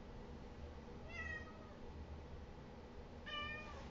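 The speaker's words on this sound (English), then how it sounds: "No, my crazy cat." A cat meows twice, a short call and then a second one about two seconds later, fairly faint over a constant background hiss.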